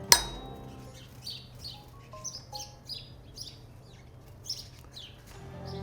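Outdoors, a bird gives a series of short, bright chirps and tweets at a moderate distance, repeating irregularly after an opening clink.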